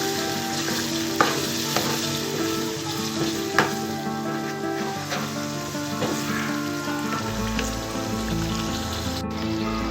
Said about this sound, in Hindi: और अब हम इसको अच्छी तरह से मिक्स करेंगे और हम इसको तकरीबन 10 मिनट तक अच्छी तरह से भून देंगे।